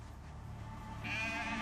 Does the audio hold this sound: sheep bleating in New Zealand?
yes